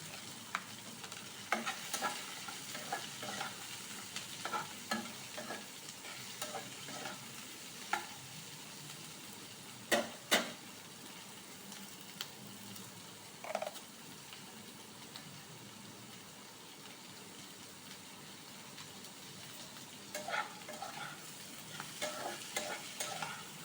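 Chopped ginger, garlic and green chilli frying in a pan, giving a steady low sizzle with scattered clinks and scrapes of stirring throughout, no voices.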